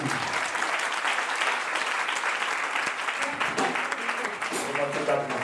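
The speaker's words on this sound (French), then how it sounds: "Acclame Jésus encore, acclame Jésus" A church congregation at a Sunday service applauds loudly and continuously, a dense wash of clapping from a crowd. Voices call out under the clapping.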